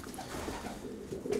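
A racing pigeon coos softly, a brief low murmuring call close by against quiet background noise.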